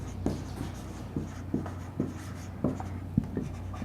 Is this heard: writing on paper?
yes